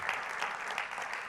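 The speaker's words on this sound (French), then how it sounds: "on vous applaudit. Un tonnerre d'applaudissements pour Jean-Louis Etienne." Steady, dense applause from an audience, continuous clapping with no break over a short stretch.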